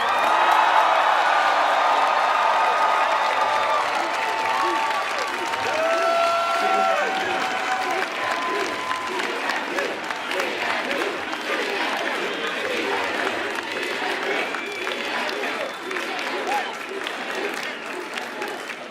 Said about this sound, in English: let's hear the enthusiasm from the whole crowd